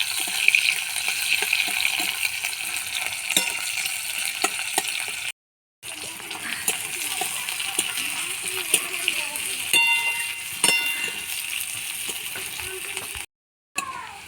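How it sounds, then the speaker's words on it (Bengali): Onions sizzle steadily in mustard oil in a kadai, a continuous bright hiss with occasional stirring scrapes and two brief silent cuts, while a voice talks over the cooking. "পেঁয়াজগুলো দিয়ে পেঁয়াজগুলো ভেজে নেব।"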